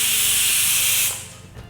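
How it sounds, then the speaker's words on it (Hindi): Pressure cooker whistle blowing off steam while egg biryani cooks: a loud, continuous hissing jet that holds steady for about a second, then abruptly drops to a softer, fading hiss. "प्रेशर कुकर में आ चुकी है एक सीटी"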